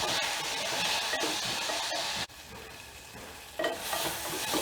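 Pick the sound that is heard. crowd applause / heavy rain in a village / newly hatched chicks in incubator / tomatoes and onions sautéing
tomatoes and onions sautéing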